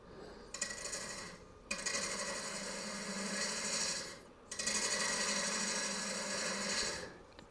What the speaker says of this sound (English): And I have the lathe at about 800 or so.